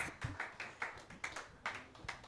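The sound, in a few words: audience applause for presidential candidates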